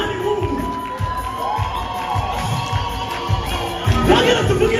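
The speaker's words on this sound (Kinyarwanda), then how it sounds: "Tuvugirize Imana impundu." A church congregation cheering and ululating in praise to God during a worship gathering, loud and continuous, with high trilling voices over the crowd's roar.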